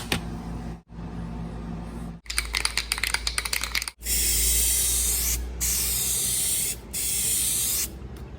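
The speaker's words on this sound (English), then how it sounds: "Two light coats, and we'll come back and put the more heavier coats." Aerosol spray paint hissing onto a Ford F-150 fender emblem and trim in short light coats, with rapid can-rattle clicks before several loud, close hissing bursts separated by brief pauses.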